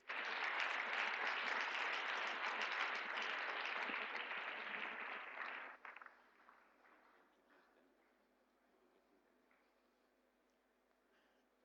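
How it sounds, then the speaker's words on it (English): Applause at a children's gardening and small-animal rearing competition in Ghana: a dense burst of clapping from a gathered crowd for about six seconds, quickly thinning to a few scattered claps and then near silence. "Shall we give ourselves a round of applause for being around?"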